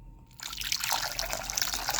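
Water is poured into a no-bake Christmas dessert mixture, starting with a brief quiet moment and then becoming a close, continuous trickle and splash for the rest of the clip.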